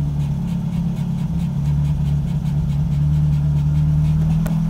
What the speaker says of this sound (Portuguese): o carro, ó, a rotação do carro subindo, ó